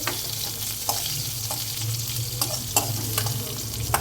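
Curry leaves crackle and sizzle in hot oil, a continuous frying hiss with sharp pops and spatters every half second or so, close and fairly loud, no talking.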